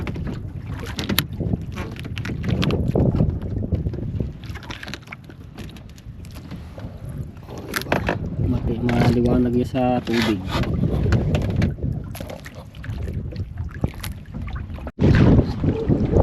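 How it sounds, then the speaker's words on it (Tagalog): Northeast monsoon wind buffets the microphone at sea aboard a small boat while squid fishing, a steady loud rumble and gusting roar throughout, with someone talking over it and water splashing near the hull. "Ayan, so nagkakahangin-hangin mga katsepo. Lumalakas ang amihan."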